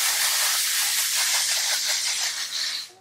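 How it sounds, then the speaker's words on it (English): Moroccan oil hairspray hisses out of an aerosol can in one long, close, continuous spray for nearly three seconds before cutting off. "I'm gonna go in with this Moroccan oil hairspray."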